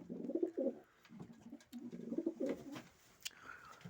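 Domestic pigeons, a male and a female dove, coo in a few low, throaty bursts at close range, with faint rustling between the calls.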